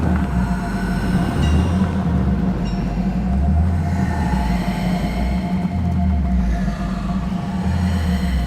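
Mine carts roll along rails in Hogwarts Legacy, a steady loud low rumble with rhythmic clacks and a faint metallic whine that keep repeating, no talking.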